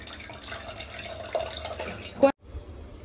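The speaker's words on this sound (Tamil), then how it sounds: "புளியும் கரைச்சி ஊத்திக்கலாம்" Dissolved tamarind water poured into a pot for horse gram rasam, a soft close splashing trickle that ends abruptly, followed by a short quiet stretch.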